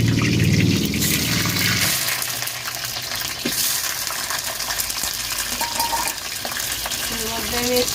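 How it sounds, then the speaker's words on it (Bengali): Potatoes are dropped into hot oil in a kadai wok and fry with a loud, dense, steady sizzle close by, a few metallic clinks and faint voices in the background. "এবার আমি আলুটা দিয়ে দেবো"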